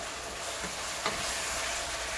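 Butter sizzles and fries in a pan with peppers for Haitian-style chicken and basmati rice, a steady close hiss broken by a soft stirring scrape, with no talking.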